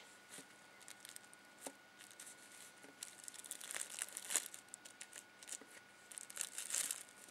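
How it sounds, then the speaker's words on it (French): Parchment paper crinkles and rustles in close, irregular bursts while polymer clay macaron shells are pressed flat beneath it, growing busier toward the end with no talking. "je vais venir les aplatir toujours avec mon papier sulfurisé"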